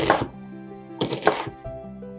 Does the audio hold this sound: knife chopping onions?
yes